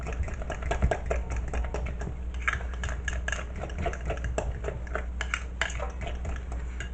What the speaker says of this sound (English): we're gonna take a fork and we're gonna mix it all to make it all nice and green